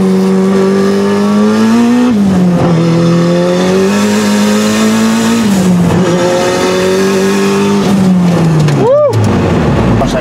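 A Honda Odyssey minivan accelerates hard on a highway, its engine pitch climbing and then dropping at each of several gear shifts, loud and close from inside the cabin.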